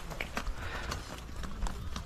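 Horse hooves clip-clop at a steady trotting rhythm on the trail to Thajiwas Glacier in Sonmarg, Kashmir, close and fairly loud over outdoor background noise, with faint voices in the mix.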